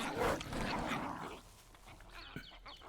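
A small dog in the survival game Survival: Fountain of Youth makes a short burst of animal noise that fades after about a second, leaving quiet outdoor ambience.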